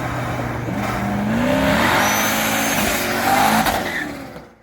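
A C5 Corvette engine roars loud and close at high revs, held against the rev limiter during a burnout, with a steady engine drone and harmonics that waver and stutter before the sound cuts off abruptly at the end.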